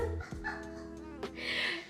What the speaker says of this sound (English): That is the dog.